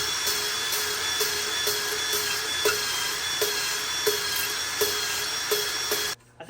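A drill cuts the valve seat edge on a 454 big block Chevy cylinder head, a steady high-pitched whine with regular rhythmic pulses about every two-thirds of a second, close and continuous before stopping abruptly at the end.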